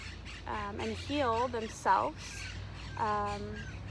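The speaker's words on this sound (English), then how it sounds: "You can probably hear the birds chirping really loudly in the background." In Sparky Park in Austin, Texas, birds squawk and call loudly in repeated harsh, rising bursts from nearby while someone talks over them.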